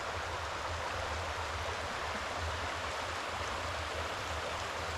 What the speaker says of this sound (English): It was absolutely amazing to hear the sound of the water all night